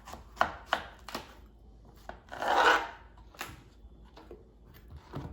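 A knife slices through a zucchini on a cutting board, a few sharp taps followed by a longer grinding cut through the flesh, close and fairly quiet with no talking.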